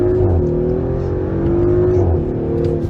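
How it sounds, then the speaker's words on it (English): An Audi SQ5 held on the brake while its engine is revved to build boost for a launch: a loud, steady droning hum that swells slightly and settles, close up with no talk. "Depress the brake pedal firmly, give it some gas, and build boost."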